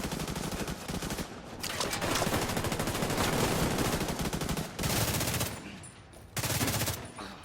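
Sustained automatic gunfire in The Division 2, rapid continuous bursts of close, loud shots with a few brief pauses between volleys, battle noise dense throughout.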